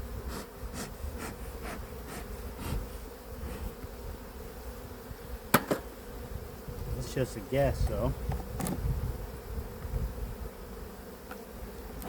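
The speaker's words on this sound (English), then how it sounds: "So already I'm seeing most of the bees are over here." Honey bees buzz around an open hive at season's end, making a steady, dense droning hum with occasional clicks and someone speaking briefly over it.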